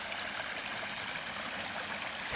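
A mountain stream flowing near a hiking trail, a steady soft rush of water heard close by and alone, with a faint bump at the very end.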